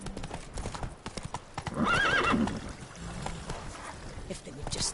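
Hooves of Roach, a horse in The Witcher 3 Blood and Wine, clip-clopping in an irregular rhythm with a brief whinny in the middle, under ambient game sound and a voice.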